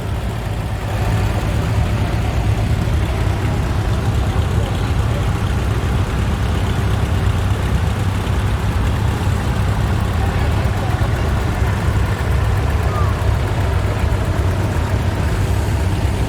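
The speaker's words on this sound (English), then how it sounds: "Big John Deere going through." Big John Deere tractor driving through at a vintage rally, its heavy low diesel engine drone steady and loud throughout, with faint background activity.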